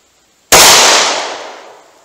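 One loud, sharp gunshot from a snub-nosed .38 Special revolver with a 2-inch barrel, fired single action, cracking in after a brief silence and fading through a long reverberant tail of about a second and a half.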